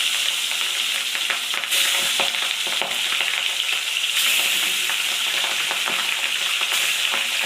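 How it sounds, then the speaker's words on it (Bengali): Shorse, a mustard fish curry, simmering gently in a pan, making a continuous close sizzle with soft, frequent popping bubbles, alone with no talk. "এই একটু টুকটুক টুকটুক করে ফুটবে"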